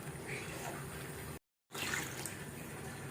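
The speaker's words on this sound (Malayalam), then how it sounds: "കുറച്ചും കൂടെ വെള്ളം ഒഴിക്കാം." Water poured into a cooking pot while making mango rasam in a home kitchen, a steady splashing stream running close by, broken by a short gap of silence before the pouring resumes.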